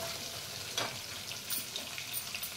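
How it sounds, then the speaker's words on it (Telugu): Onions frying in a pan give a steady, close hiss of sizzling, with a few brief crackles and soft stirring scrapes over the top; no one speaks. "ఉల్లిపాయలు మంచిగా ఫ్రై అవ్వాలి."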